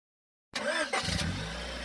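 A car engine starts up abruptly after a moment of silence, catching with a burst and then settling into a steady, close idle rumble.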